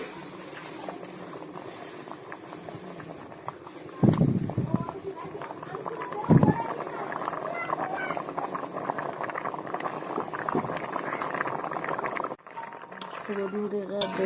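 A pot of potato and taro (kochu) curry for a lata fish dish bubbles and simmers on the stove in a steady, close, crackling patter, with a couple of louder clatters and someone talking over it.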